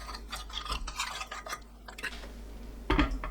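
Soybean paste and red chili paste stirred into rice-rinsing water, a soft close scraping and swishing of a utensil against a pot, steady at first, then a brief louder clink near the end.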